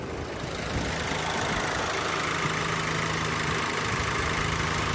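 A 2023 Volkswagen Golf R with its EA888 turbocharged engine idles steadily, giving a constant low rumble with a faint hiss on top, close and even throughout with no talk.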